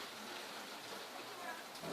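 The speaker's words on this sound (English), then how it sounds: "the rain is coming through my window" Heavy rain from a tropical storm pouring down beside a window, a steady hiss of drops that swells slightly toward the end, with no talking.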